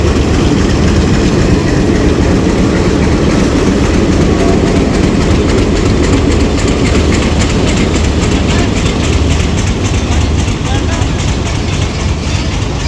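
A train at Lahore railway station gives a loud, steady low rumble with heavy engine drone and rolling noise, and a busy platform hubbub runs underneath.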